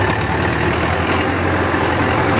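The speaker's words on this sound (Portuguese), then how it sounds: "Trator trabalhando em 1600." A tractor engine runs steadily at 1600 rpm in third reduced gear while working a bell pepper field, giving a loud continuous low rumble with no gaps.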